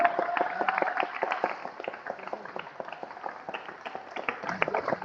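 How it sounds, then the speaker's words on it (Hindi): An audience applauds guests coming onto a stage at a live show. The clapping is steady, moderately loud and continuous, a crowd's dense patter with no voices over it. "आपकी तालियों की गड़गड़ाहट ये एहसास करा दे"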